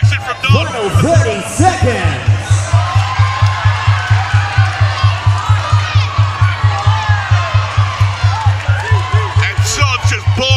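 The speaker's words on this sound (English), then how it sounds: "Crowd's going absolutely ballistic." Spectators at a Muay Thai fight roar and whoop loudly in a dense, sustained wall of crowd noise, with a steady rhythmic drumbeat pulsing underneath throughout.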